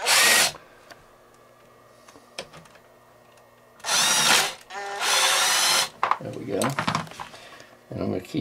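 Power driver backing out the pair of T15 Torx screws that hold the recoil pad on a TenPoint RS470 crossbow: short whirring bursts close up, separated by pauses, followed by light clattering of handled parts.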